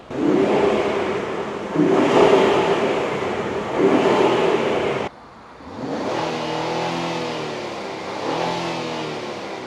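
Infiniti Q50 Red Sport AWD engine with an AMS intake revving in two long surges, rising and falling in pitch, loud and close, with a brief drop between bursts.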